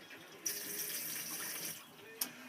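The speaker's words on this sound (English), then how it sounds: "We've got running water for you," Water runs steadily from a tap in a VIP 460 caravan, a soft continuous hiss with a couple of brief clicks, fairly quiet and close.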